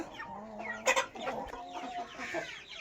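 Young roosters and hens offered for sale cluck and squawk close by, a busy overlapping flock with a sharper burst of calls partway through.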